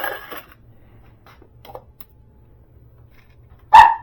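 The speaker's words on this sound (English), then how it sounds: "I got a dog barking at me." A single short, loud dog bark near the end, following quiet room tone with faint shuffling.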